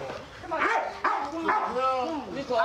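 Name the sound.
police dog barking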